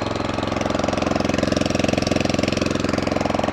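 A Loncin rototiller engine runs steadily in a vineyard, a loud close mid-pitched chugging with a fast, even pulsing rhythm and no change in speed, with no talking.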